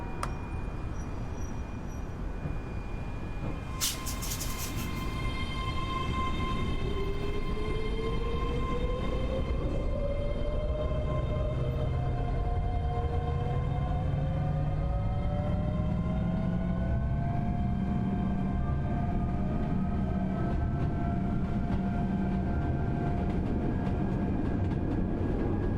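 Train running in Train Sim World 3 on the Edinburgh–Glasgow line: a steady rumbling drone with rising motor whine that climbs in pitch as the train accelerates, plus a brief sharp clank early on, continuous and fairly loud with no talking.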